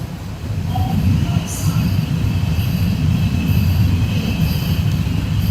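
A new air-conditioned suburban electric train runs near Chennai, with a steady low rumble and rail noise heard from inside the coach and a faint wheel squeal, with no clear speech.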